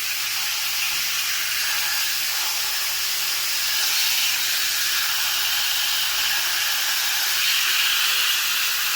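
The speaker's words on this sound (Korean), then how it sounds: "수증기가 이러." Steam hisses loudly and continuously from a household appliance during a laundry session, a broad, dense rush close by with a low steady hum underneath.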